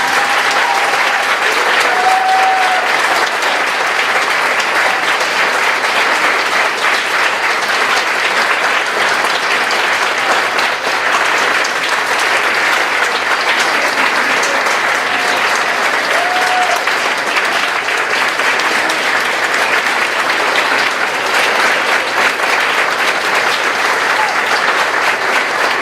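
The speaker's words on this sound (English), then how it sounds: "So could we give them all a round of applause?" A graduation audience applauds the faculty and staff in a long, steady, dense round of clapping that holds at full strength for about twenty-five seconds, with occasional faint tones in the background.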